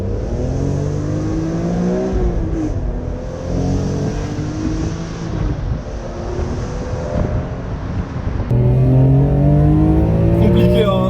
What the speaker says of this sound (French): il chante jusqu'à 7900 tours, pratiquement 8000, t'as tout le temps de profiter de cette symphonie du 6 cylindres en ligne atmosphérique chez BM